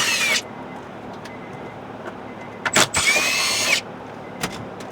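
A power drill backs bolts out of the center console of a Honda Accord, with two short, loud, whining bursts close by and a steady low hum between them.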